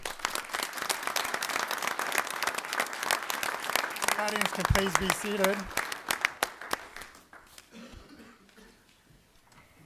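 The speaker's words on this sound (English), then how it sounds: "Let's give them a round of applause." Applause from an audience at a village board of trustees meeting, honoring a color guard after its dismissal. Loud, dense clapping fills most of the clip, with a voice speaking over it midway before the clapping thins and fades out.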